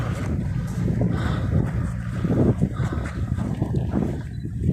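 Wind blowing steadily at the seaside town of Arromanches, a loud, continuous rumbling gust buffeting close by with no other clear sounds.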